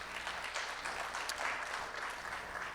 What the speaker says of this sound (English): A round of applause just for that number.